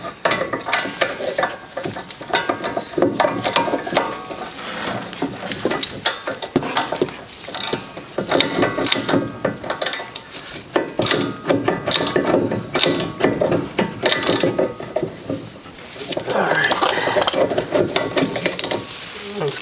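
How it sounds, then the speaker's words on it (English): A torque wrench ratchets while tightening rear brake bolts on a Honda Civic to 55 foot-pounds, giving close, loud bursts of rapid mechanical clicking with brief pauses between strokes. "I'll take a torque wrench and torque them down 55 foot-pounds"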